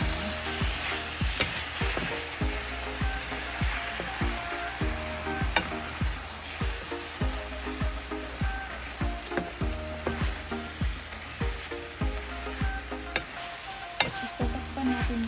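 Mixed vegetables stir-fried in a pan, served with palabok noodles: a steady sizzle with rhythmic scraping knocks from stirring, close and fairly loud, and no talking.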